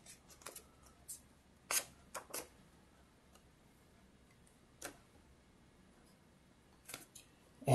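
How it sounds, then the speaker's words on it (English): Paper is folded in half and squeezed into a crease, giving sparse, sharp crinkles and taps spaced irregularly between quiet gaps, close and fairly faint. "So I fold it in half."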